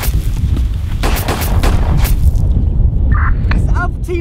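Gunfire and explosions in a short film sound as loud, dense booms and rapid shots. The barrage fades after a couple of seconds and a voice briefly sounds over it.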